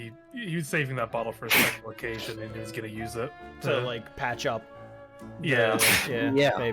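A single sharp sneeze bursts out in the middle of a casual conversation between men, loud and close, with talking continuing around it.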